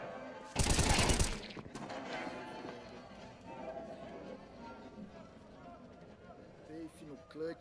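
Counter-Strike gunfire during a pro esports semifinal match: a loud, dense burst of shots for about a second near the start, then quieter game sounds and crowd chatter beneath.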